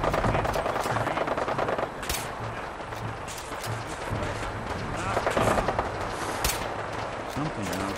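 Gunfire in the video game Fallout 4 during the Battle of Bunker Hill, with dense bursts of shots and explosive cracks over a rumbling battle backdrop, loud and close, with a voice partly heard amid the fighting.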